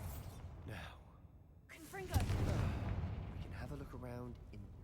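In a Harry Potter video game, a Confringo spell fires as a sudden blast that swells into a rumbling burst, with voices around it.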